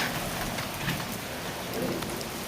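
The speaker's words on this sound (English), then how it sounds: "All right, it's raining." Rain falls outdoors in Las Vegas, a dense steady hiss of drops hitting surfaces close by, with faint scattered thumps underneath and no voices.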